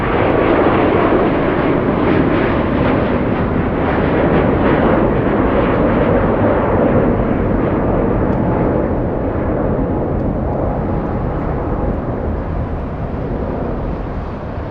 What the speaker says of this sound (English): There goes the big Qatar, the Qatari A380 flying back to Doha City.